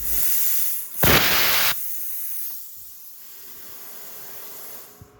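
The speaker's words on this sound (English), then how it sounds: "it does have a pilot arc. And what the pilot arc is just a high frequency start" A Silatu 55 amp plasma cutter on a 220-volt setting, firing its high-frequency-start pilot arc: one sharp, loud hissing burst lasting under a second, then a quieter airy hiss that fades out, ending with a small click.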